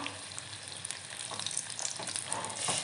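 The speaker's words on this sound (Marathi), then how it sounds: "किती छान असे तळले जात आहेत हे वडे आपले मिरची वडा" Chilli vadas deep-frying in hot oil on medium heat, giving a steady, dense crackling sizzle with bursts of popping throughout, close and alone without voices.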